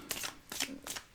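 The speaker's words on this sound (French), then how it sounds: "je mélange mes cartes" Oracle cards being shuffled by hand in three quick, soft riffling bursts, close and quiet, with no talking.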